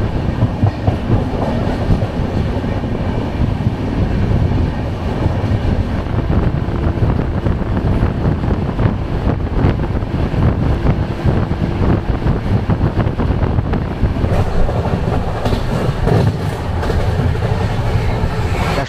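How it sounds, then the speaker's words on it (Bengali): The 22201 Sealdah–Puri Duronto Express, a sleeper train, runs through the dark with a loud, steady rumble and rhythmic clickety-clack of wheels on rail joints, plus wind buffeting throughout. "অন্ধকারের মধ্যে দিয়ে ট্রেন ছুটে যাচ্ছে"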